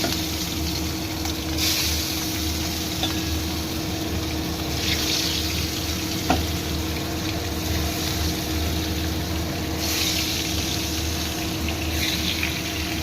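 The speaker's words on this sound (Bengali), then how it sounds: "তেল গরম হয়ে গেছে, এবার মাছ দিয়ে দিলাম।" Katla fish pieces frying in hot oil make a dense, continuous sizzle under a low steady hum, with a few brief pops and bursts of louder spitting and no voices.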